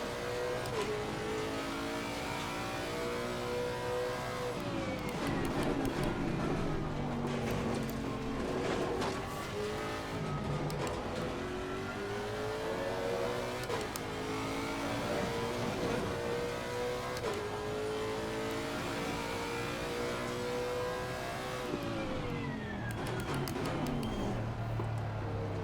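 A Ferrari race car engine in Assetto Corsa Competizione roars steadily through rising and falling gear changes, with revs climbing and dropping repeatedly amid other cars on track, loud and continuous with no talk.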